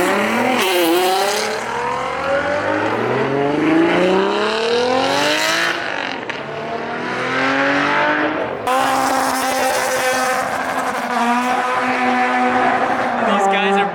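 Loud performance cars, including Nissan GT-R R35s, rev hard and tear away from a car show one after another, engine notes rising and falling continuously across the clip with crowd voices mixed in.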